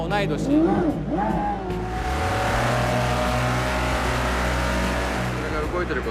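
A 1960s car drives at the Goodwood Festival of Speed, its engine a loud, steady drone with rising pitch sweeps as it revs and accelerates, close throughout, with a brief rougher burst near the start.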